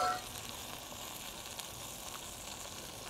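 Breaded chicken fries in a pan with tomato sauce, giving a soft, steady, even hiss of sizzling that stays faint and unbroken throughout.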